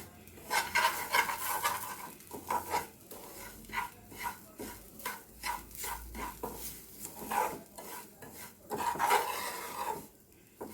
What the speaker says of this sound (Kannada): ಇದನ್ನು ಸಣ್ಣುರಿಗೆ ಒಂದು ಎರಡು ನಿಮಿಷ ಹಿಂಗೆ ಹುರಿ ಹುರಿತಾ ಇರಬೇಕು